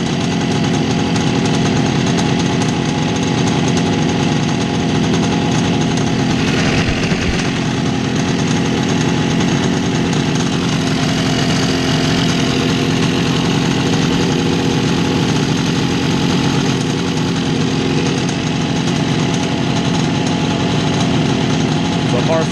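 A 1966 Bridgestone 175 motorcycle engine idles with a loud, continuous buzzing drone throughout, and a voice is faintly present.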